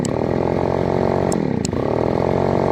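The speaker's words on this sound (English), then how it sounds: "Listen to the engine." The two-stroke gas engine of a PROYAMA backpack sprayer, mister and mosquito fogger runs loud and close, a continuous buzzing drone with a brief dip and swell in revs partway through.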